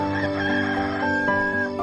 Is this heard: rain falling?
no